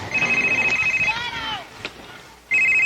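A cellphone rings in loud, repeating electronic tone bursts, stopping for about a second of room noise and voices, then starting again near the end.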